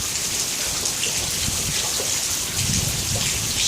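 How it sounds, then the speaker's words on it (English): Rain from a small thunderstorm cell falls steadily, a dense even hiss of drops on surfaces with a faint low rumble beneath, and no voices. "it was just a little storm cell, it wasn't anything major"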